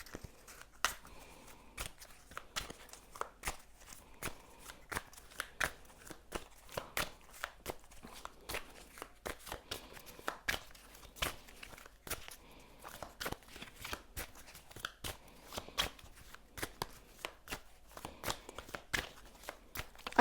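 Tarot cards are shuffled by hand in a steady run of crisp riffling and slapping clicks, close and alone, with no talking over them.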